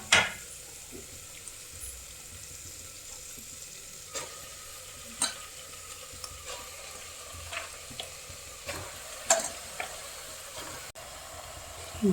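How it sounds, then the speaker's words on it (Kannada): Mutton frying in a pan gives a steady, close sizzle, broken by scattered clinks and scrapes from stirring, with no talking. "ಈಗ ಇದಕ್ಕೆ ಮಟನ್ ಹಾಕ್ಕೊಳ್ತೇನೆ."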